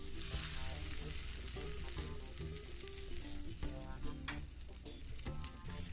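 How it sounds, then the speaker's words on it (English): Butter, about a teaspoon, sizzles steadily in a frying pan while a sauce is made. The crackling hiss is continuous and fairly loud throughout, with faint clinks and stirring noises mixed in. "I'm gonna add about a teaspoon of butter."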